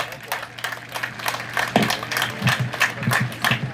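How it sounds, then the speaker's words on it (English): Audience hand clapping at a school sports event's opening ceremony in a stadium, a scattered smattering of claps swelling in the second half, with crowd murmur in the background. "I think God deserves a better hand clap than that."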